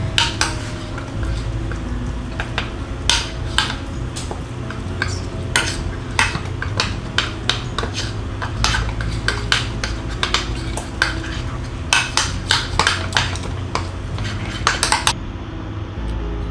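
A spoon clinks and scrapes against a bowl as peach cobbler ingredients are mixed, making a steady run of bright, close taps over a low background hum.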